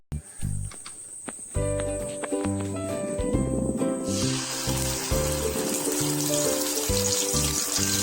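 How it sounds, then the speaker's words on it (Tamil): Ground pepper paste, for a pepper egg gravy, hits hot oil and breaks into a loud, bright sizzle that keeps crackling steadily, backed by rhythmic music throughout. "நம்ம அரைச்சி வச்சுருக்க பேஸ்ட் இதில் ஆட் பண்ண போகிறேன்."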